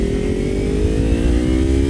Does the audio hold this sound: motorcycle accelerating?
yes